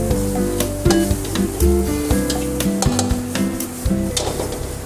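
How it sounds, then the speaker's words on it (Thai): Minced pork with holy basil being stir-fried in a pan, a loud continuous sizzle with repeated scraping strokes of the spatula and no talking. "ผัดให้แห้งนะครับ"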